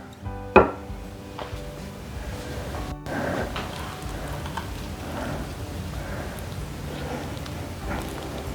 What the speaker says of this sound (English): Now we're going to cut in our butter.